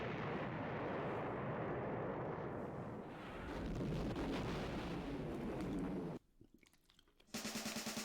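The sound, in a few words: rocket launching into space in the video game Sonic The Fighters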